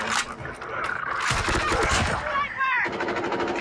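Automatic AK117 rifle fire from the mobile shooter game Call of Duty Mobile, rapid loud bursts with metallic scraping and game effects layered over the sound.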